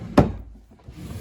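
A drawer holding sheets and pillowcases shuts with a single sharp close-up thunk, followed by a quieter scrape and soft rustling.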